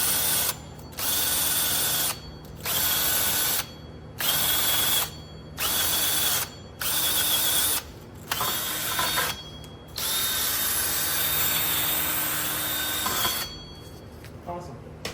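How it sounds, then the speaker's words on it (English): A wire brush spinning on an air or power gun scrubs rust off the rear brake hardware of a 2011-2015 Kia Optima / Hyundai Sonata, running in loud repeated bursts of about a second each with short pauses, then one longer steady run. "I'm gonna go ahead and grab my wire brush on my gun, and I'm gonna try and clean up some of the rust over here."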